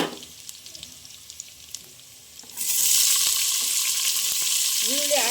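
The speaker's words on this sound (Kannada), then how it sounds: "ಈಗ ಈರುಳ್ಳಿ ಹಾಕ್ತೀನಿ." Chopped onions hit a hot pan with oil and burst into a loud, steady sizzle that continues alone after a few quieter stirring clinks beforehand.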